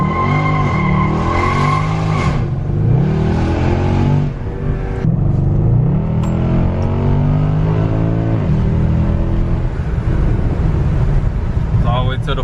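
A Mercedes-Benz AMG with a newly installed pedal, after a limp mode repair, accelerates hard at full throttle, its engine loud and close as it climbs through the gears with rising and falling pitch, then holds a steady cruising roar.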